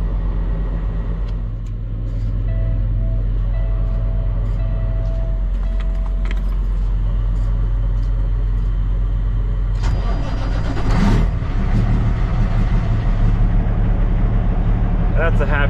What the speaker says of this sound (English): It's always a happy feeling when the truck starts in the morning.